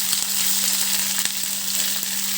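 Chopped onions frying in a pan for a Telugu ivy gourd (kovakka) fry curry, a steady dense sizzle that holds evenly throughout at close range, with no talk.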